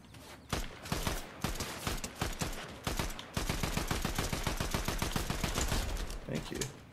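Dense automatic gunfire from a Fortnite match, rapid repeated shots in long bursts with short gaps, loud and close, briefly under a player's voice.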